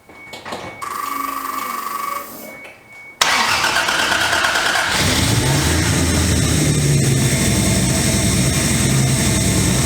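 A turbocharged car engine that just had power steering installed cranks briefly, then catches at about three seconds and settles into a loud, steady idle close by.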